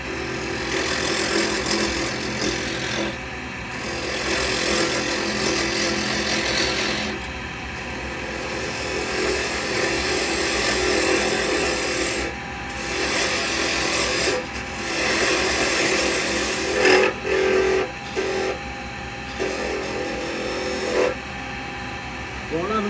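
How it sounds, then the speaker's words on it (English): A woodturning lathe hums steadily while a tenon tool cuts into spinning laburnum wood, giving a continuous hissing scrape close up, with talk heard over the cutting. "I'm just going to put a tenon on this end"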